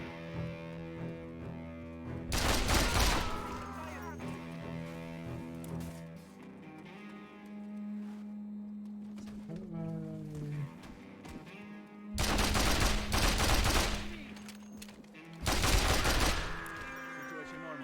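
Rapid automatic gunfire in the Mercenaries 2: World in Flames video game, with three loud, dense bursts of about a second each separated by quieter game music and effects.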